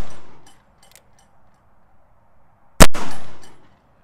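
A Colt 1851 Navy black powder revolver fires a single sharp, loud shot that decays quickly into a short echo, preceded by faint mechanical clicks in an otherwise quiet outdoor setting.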